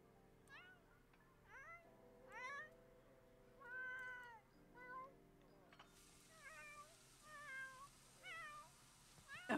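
A cat in The Sims 4 meows repeatedly, about eight rising and falling calls spaced a second or so apart, clear and close over a quiet background tone, with no speech.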